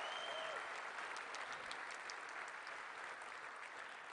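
A large conference audience applauding at a keynote, with dense, steady clapping and some whoops, sustained evenly throughout and heard from within the hall.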